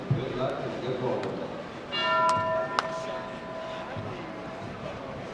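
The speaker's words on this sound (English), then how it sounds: "at the sound of the bell, you may begin your event" A single bell rings out to start an event at the 2014 USBC Open Championships bowling tournament, a clear, sustained tone that rings for about a second over a busy, murmuring hall.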